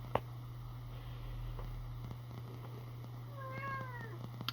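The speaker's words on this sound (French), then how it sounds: "et le chat qui s'y met" A cat meows a few times near the end, rising and falling calls over a steady low hum and faint background noise.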